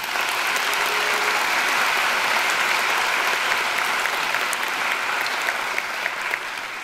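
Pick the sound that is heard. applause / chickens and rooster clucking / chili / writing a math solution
applause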